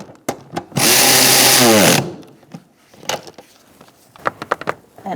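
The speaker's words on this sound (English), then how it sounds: "All right, let's tighten these down." A power tool tightens nuts on the rear parking brake of a 2002–2006 Honda CR-V, a loud buzzing burst of about a second, framed by scattered clanks and clicks of parts being handled.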